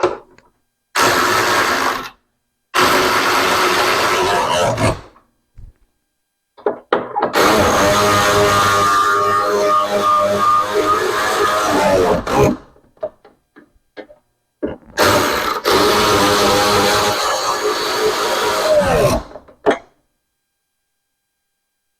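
Power tool on a 1991 Camaro during final assembly, driving bolts in several separate bursts of whirring and rattling, each lasting a few seconds with silent gaps between, close and fairly loud.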